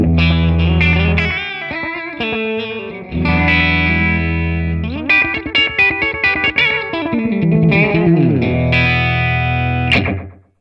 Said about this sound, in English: The first example we're going to hear is that classic rockabilly slapback